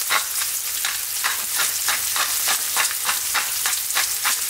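Eggplant and garlic sauté in a hot pan, a loud hissing sizzle swelling in rapid rhythmic bursts as the pieces are stirred back and forth without pause.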